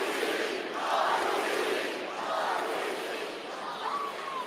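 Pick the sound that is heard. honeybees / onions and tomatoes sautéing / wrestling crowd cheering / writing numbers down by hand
wrestling crowd cheering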